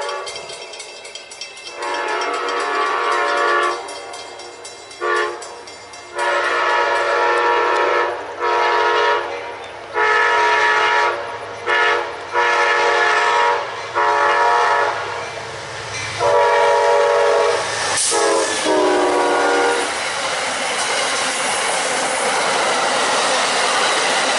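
Amtrak 92 Silver Star passenger train passing southbound, sounding a series of loud, close horn blasts in long repeated bursts over the steady roar of the cars rolling by.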